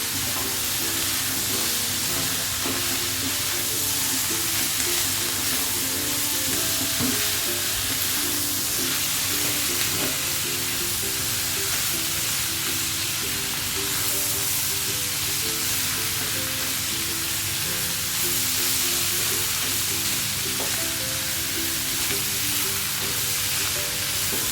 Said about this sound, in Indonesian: Masukin petenya ya, masuk juga terinya. Aduk-aduk ibu-ibu sampai merata.